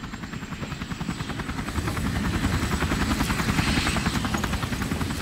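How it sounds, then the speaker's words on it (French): A helicopter arrives in the video game Resident Evil 4 Remake, its rotor thumping in a fast steady chop that grows louder and closer over several seconds, with no talk over it. "L'hélico est là."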